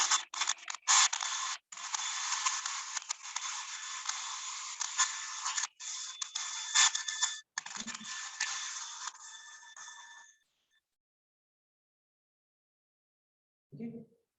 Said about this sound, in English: This is hot air blower.